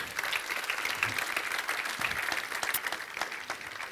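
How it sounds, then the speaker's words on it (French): A conference audience applauds the speakers of a round-table session, giving steady, dense clapping that keeps going at an even level from start to finish. "que vous pouvez applaudir bien sûr"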